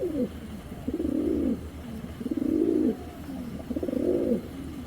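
A pair of grizzle racing pigeons coo close by in three or four repeated, throaty rolling phrases over a low background hum.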